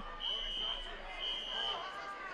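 A fire alarm sounds at a wrestling show venue, two long steady high electronic tones about a second each with a short gap, heard moderately loud over crowd murmur and a voice talking.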